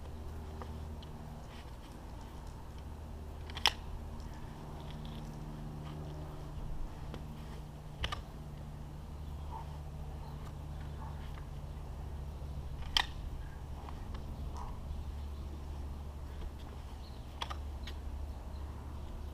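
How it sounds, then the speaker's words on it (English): A Bagwell Bowie knife is drawn repeatedly from a Panther Concealment outside-the-waistband sheath, giving four sharp, isolated clicks spaced several seconds apart over a low, steady room hum. "A few more draw strokes just so you understand it's repeatable."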